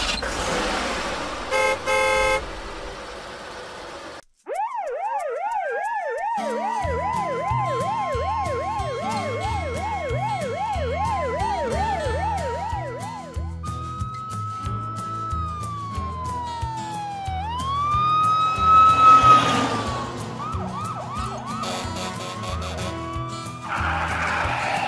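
Cartoon ambulance siren in a Lego city, a loud warbling wail that rises and falls in quick cycles, then shifts to longer sweeping tones over bouncy background music for about twenty seconds.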